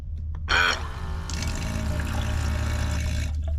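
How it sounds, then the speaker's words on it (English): Water pours steadily from a hose into a camper van's tank, a continuous close splashing flow with a brief louder gush at the start. "Running water."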